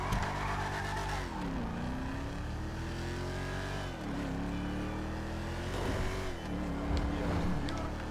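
A Declasse Mamba roadster in GTA revs hard under a held throttle, its engine pitch sweeping up and down in several loud, continuous surges with a brief tyre squeal, close and steady throughout.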